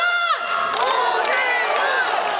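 An outdoor Seoul mayoral campaign rally crowd in Yeongdeungpo loudly chants the candidate's name Oh Se-hoon, rising shouted voices merging into sustained cheering close by.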